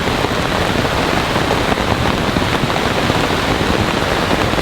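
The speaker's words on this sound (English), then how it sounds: "You can see that the rain is basically sideways right now" Heavy, wind-driven rain pounds steadily around a campsite during a thunderstorm, a loud, dense, unbroken roar of drops on surfaces close by, with no voices.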